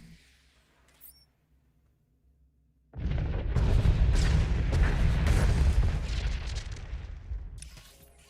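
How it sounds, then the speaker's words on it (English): Explosions in the video game Star Wars: The Old Republic: after near-silence, a sudden loud, deep blast erupts and rumbles on for several seconds before fading. "Explosions."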